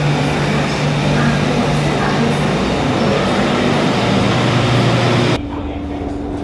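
A BTS Skytrain ride in Bangkok gives a steady, loud interior rumble with a low tonal hum that drops off sharply near the end, leaving quieter cabin noise.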